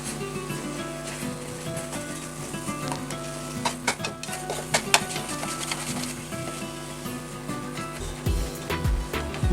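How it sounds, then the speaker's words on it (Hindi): Grated carrot halwa (gajar ka halwa) roasting in a pan, with a continuous soft sizzle and repeated scraping strokes of a spoon against the metal, close and fairly quiet, and a few heavier knocks near the end. "गाजर का हलवा भुन रहा है।"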